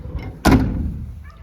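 Rear door of a 1996 Land Rover Defender 110 300Tdi shutting with a single solid, close thunk, followed by a short fading resonance.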